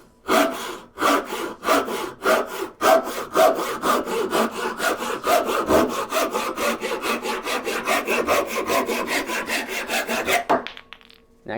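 A hand saw cuts through wood in a workshop, its strokes repeating loud and steady in an even back-and-forth rhythm for about ten seconds before stopping.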